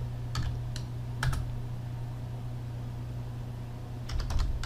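Short bursts of keystrokes on a computer keyboard enter a username and password: one quick cluster, a pause, another few taps, then a final flurry near the end over a steady low hum.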